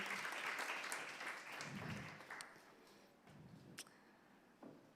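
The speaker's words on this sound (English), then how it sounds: "give one more round of applause for our panelists" An audience at a live podcast recording in Oakland, California applauds the panelists. The clapping is faint and distant, strongest at first and then thinning out into scattered claps.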